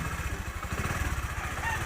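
A Bajaj CT100 motorcycle engine runs close by with a steady, low, rapid thumping pulse, loud and even, with no talk over it.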